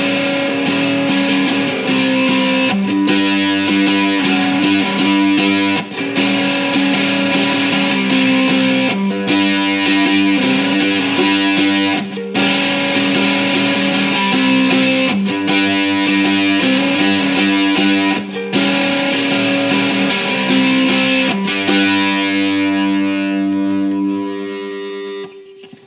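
Ukulele played through a Superbadass distortion pedal, loud crunchy chords strummed in repeated rhythmic patterns with thick saturated sustain, ringing out alone and fading at the end.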